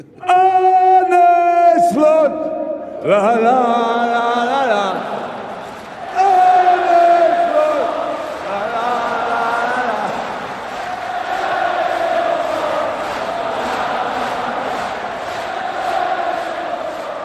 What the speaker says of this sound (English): That is a chant, the Jurgen Klopp chant, isn't it? But he just put Arne Slot instead of Jurgen Klopp.